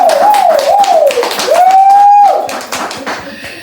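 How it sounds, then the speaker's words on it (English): A small group claps in a quick patter while a voice whoops with rising, wavering cheers, the clapping fading slightly toward the end. "So y'all give a round of applause to my first investor"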